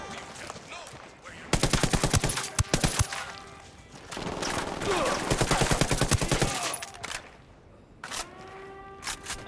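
Automatic gunfire in the video game Ghost Recon Wildlands: loud, rapid bursts of shots in several clusters, with quieter stretches of game ambience between them.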